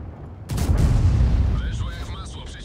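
A tank cannon shot and its hit in World of Tanks, with an NC 70 Blyskawica in play: a sudden loud boom followed by a long rumbling decay, with game effects chiming faintly later.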